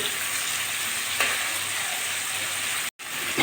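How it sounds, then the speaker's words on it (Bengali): Sliced bitter gourd and two dried red chilies fry in hot oil over low-to-medium heat with a constant bright sizzle, broken by a brief gap near the end before the crackling returns. "এবার আমি তেলের ভিতর উচ্ছেগুলো দিয়ে দিচ্ছি"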